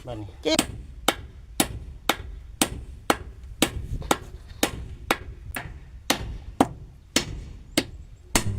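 Nails are driven with a hammer while a cattle pen is built: about fifteen sharp, ringing strikes in a steady rhythm, each close and loud, with faint talk underneath.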